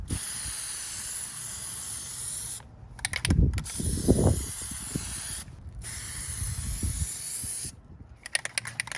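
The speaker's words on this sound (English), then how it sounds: "All right, so now I'm going to apply the 3rd coat." Plasti Dip aerosol spraying onto a chrome truck emblem on a Silverado 2500 HD, a steady close hiss in several long bursts separated by short pauses, with faint handling knocks between.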